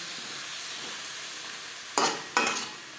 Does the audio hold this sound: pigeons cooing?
no